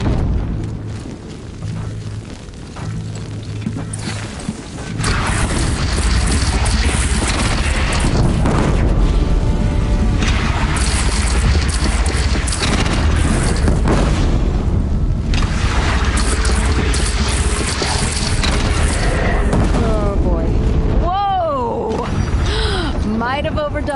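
A bridge brought down in Horizon Zero Dawn sets off a loud, sustained explosive roar and rumbling crash that fills most of the clip, with voices speaking over the din.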